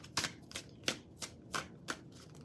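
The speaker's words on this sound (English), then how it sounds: "So let me shuffle these cards" Tarot cards are shuffled by hand in a steady run of crisp riffling bursts, close and fairly quiet, with no talking over them.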